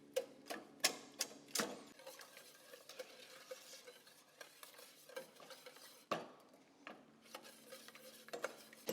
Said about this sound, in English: I want to whisk these eggs together with our juice and sugar